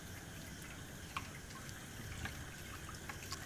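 Peanut milk for homemade paneer poured out in full from a vessel for straining: a soft, steady trickle with faint drips, quiet and continuous with no talk.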